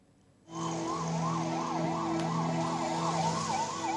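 A line of ambulances with sirens wailing on a road in India, the rising and falling wail starting abruptly and continuing loud and steady with a constant engine-like drone beneath.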